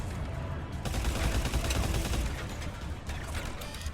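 Turret gunfire in Mass Effect 3, during an assault on a Cerberus facility: a sustained, loud, rapid automatic barrage with mechanical clatter that keeps going nearly the whole time and briefly eases near the end.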